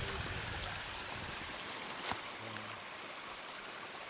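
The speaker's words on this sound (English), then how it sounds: "there's 2 or 3 little cascading waterfalls coming out of it" Small cascading waterfalls in a stream at Big South Fork's Lower No Business area make a steady, even rush of water that holds constant throughout, with no voices.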